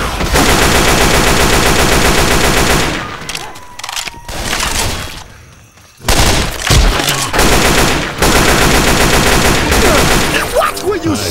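Left 4 Dead 2 gunfire: loud, dense bursts of automatic shooting fill the clip, fade into a brief lull near the middle, then return as heavy, sustained firing.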